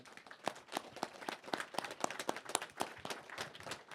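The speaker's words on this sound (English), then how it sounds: "let's give the Most High a clap for that" A small audience at a classroom Bible teaching claps for the Most High, a scattered patter of individual hand claps in a loose, uneven rhythm, close and fairly distinct.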